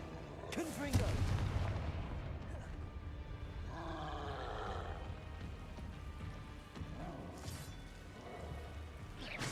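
The Confringo fire spell in Hogwarts Legacy lets off a loud explosive blast near the start, followed by rumbling, crackling magical effects and softer bursts later on.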